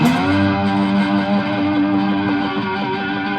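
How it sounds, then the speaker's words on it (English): Heavily distorted slide three-string cigar box guitar drones and glides between pitches in a thick, buzzing sustained tone, loud and continuous with no talking. "I have lots of distortion, so you hear a lot of sliding around"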